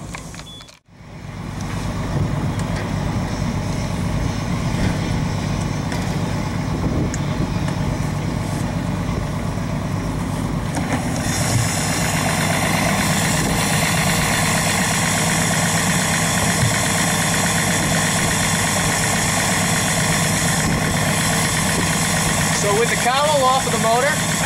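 Outboard motor on a boat being cranked and started, catching after a brief pause and then settling into a loud, steady idle that runs on continuously at close range, with a faint warbling tone near the end.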